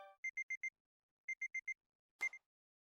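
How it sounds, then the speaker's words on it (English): A video game alarm clock beeps in two quick bursts of four electronic tones, a short pause between them, then a brief rustling thud as it is silenced, with no other sound. "I leaned out of my bed to stop the ringing alarm clock."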